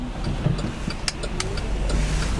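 Hybrid GMC Yukon with about 200,000 miles pulling away on the road, a steady mid-level engine drone with road and cabin noise that holds evenly throughout and no speech.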